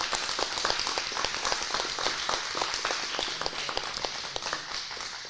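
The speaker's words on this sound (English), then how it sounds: "it would be lovely now if you could give these candidates a round of applause" Scattered audience clapping at a small-town candidate forum in Shoshoni, sparse individual claps at moderate distance, steady for the whole span with no one talking.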